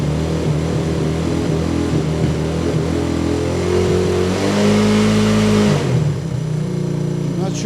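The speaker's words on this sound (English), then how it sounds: "the engine started to act up a little bit" A small 125cc motorbike engine runs and revs unevenly, its tone wavering and dipping as if starved of fuel, heard close with steady mechanical noise and a voice speaking at times.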